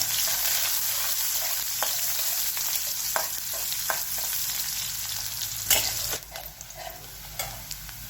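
Cumin, mustard seeds and finely chopped onion fry in hot oil for a cluster bean curry, giving a loud, steady sizzle with occasional stirring scrapes and clicks throughout.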